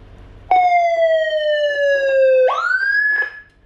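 Whelen 60-watt siren module played through a 15-watt speaker, sounding a loud steady tone that slides gradually down, then jumps abruptly up into a higher sweep before fading, close with no voices.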